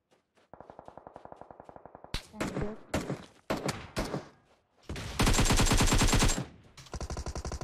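Automatic gunfire in PUBG Mobile, firing from a hilltop: close, loud, rapid bursts of shots separated by short pauses, building to one long sustained volley before a final quicker burst.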